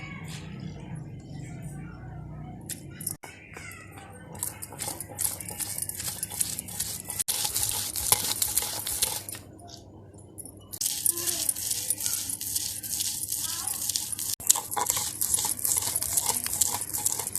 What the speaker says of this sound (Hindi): तो सिलबट्टे पे हम उड़द की दाल को पीस लेते हैं।